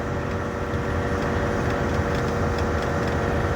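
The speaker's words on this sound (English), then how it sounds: "you can probably hear the engine in the video" A truck engine drones steadily at about 1900 RPM on a highway, a continuous mid-pitched hum with road and cab noise holding at an even level throughout, no voices over it.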